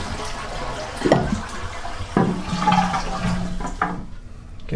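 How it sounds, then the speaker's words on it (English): A household toilet is flushed one last time after its water supply has been shut off during a bathroom renovation, giving a loud rushing swirl and gurgling drain that tails off into emptier trickles at the end. "And flush the toilet one last time."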